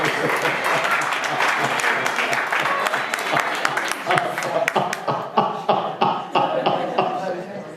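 Church congregation at a pastor's worship service clapping and applauding, a dense wash of hand claps that thins toward the end into sparser, individual claps.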